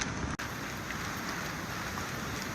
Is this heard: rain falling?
yes